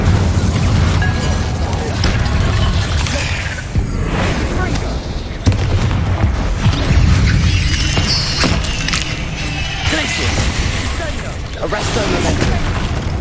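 Incendio fire spell in Hogwarts Legacy, loud repeated booming blasts and fiery bursts in a sustained battle, with other spell impacts and rumbling combat noise throughout.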